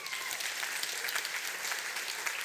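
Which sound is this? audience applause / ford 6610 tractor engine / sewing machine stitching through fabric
audience applause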